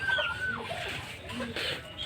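A newly acquired hen, kept with nesting hens and eggs in a farmyard, gives a few short, soft clucks close by at low volume.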